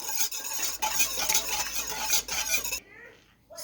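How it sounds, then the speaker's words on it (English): A small whisk beating a liquid mixture in a bowl, giving a steady, busy scraping and swishing close by that stops abruptly near the end. "mix it up with a small whisk or whatever whisk you have"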